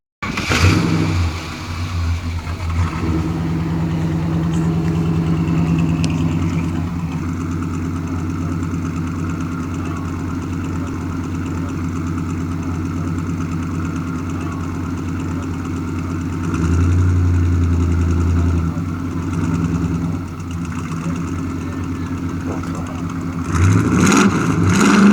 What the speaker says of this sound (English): Can we hear the exhaust?